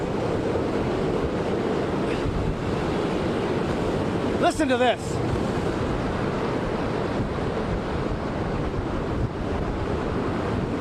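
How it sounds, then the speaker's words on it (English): Hurricane Irma's storm surge pushes Biscayne Bay over the retention walls, making a steady, roaring wash of waves and buffeting wind on the microphone, with a brief voice partway through. "Biscayne Bay is really coming over all of the retention walls."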